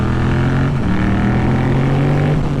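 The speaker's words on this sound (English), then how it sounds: "Loads of engine braking." A Yamaha MT-07 motorcycle engine braking downhill into a corner, a loud, close, rumbling engine drone that wavers slightly in pitch as the revs fall, with no talking.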